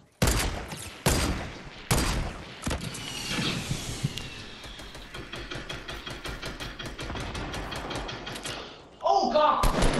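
Rocket launcher fire in the Fortnite video game: sharp loud blasts near the start, then a long run of rapid crackling shots and mechanical clatter, ending in a heavy burst.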